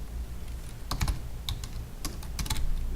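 Quick bursts of typing on a computer keyboard as code is written for a neural network program, several close, crisp key clicks grouped in short runs with brief pauses between them.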